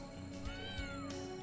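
Marie, a cat in the video game Trails of Cold Steel 3, gives a single short meow over a background music bed, close and clear with no talking.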